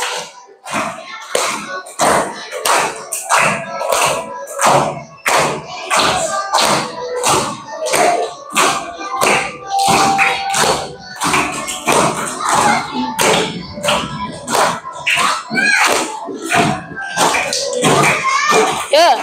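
Children clap rhythmically in a classroom, a steady run of sharp hand slaps keeping time with a song, close and fairly loud, with voices mixed in throughout.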